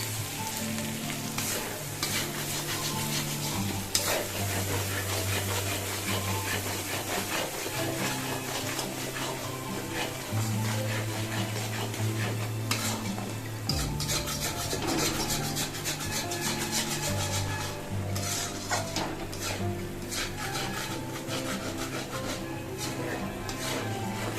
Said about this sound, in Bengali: লঙ্কা গুঁড়ো, শুকনো গুঁড়ো, শুকনো লঙ্কার গুঁড়ো, জিরের গুঁড়ো সব দিয়ে, গরম মশলার গুঁড়ো দিয়ে এবার আমি কষা শুরু করছি